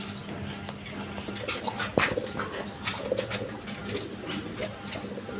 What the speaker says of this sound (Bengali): এইখানে এক পেয়ার গিরি রাজগোল্লা কবুতর আছে দেখেন